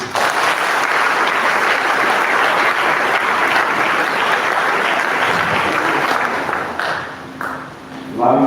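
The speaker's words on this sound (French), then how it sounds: "Applaudissez-vous." A church congregation at Sunday Mass bursts into sustained applause, loud and dense for several seconds, then tapering off into scattered claps and room noise.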